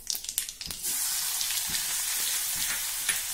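Crushed garlic, mustard seeds and cumin hitting hot oil, starting with a few crackling pops and then settling into a steady, loud sizzle.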